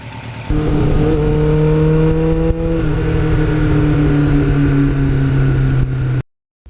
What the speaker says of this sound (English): the sound you hear when you're riding this bike out of that Muzzy muffler